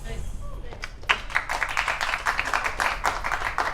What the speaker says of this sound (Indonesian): Maksudnya kenapa tepuk tangan?